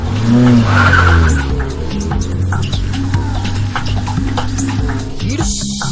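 A car driven wildly lets out loud, wavering tire squeals and skids, sliding pitch rising and falling over a rough engine roar, with voices mixed in.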